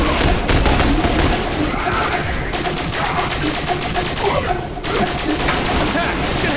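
A deployed automatic turret fires steady rapid bursts in the video game The Bureau: XCOM Declassified, continuous close machine-gun chatter mixed with impacts and battle noise, pausing briefly near the end, with shouted voices underneath.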